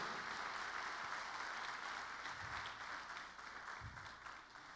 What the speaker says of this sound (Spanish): Dele palmas fuerte al Rey.